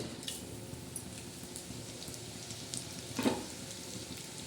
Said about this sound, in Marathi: आता तेलामध्ये आपण काय टाकणार आहोत सुकट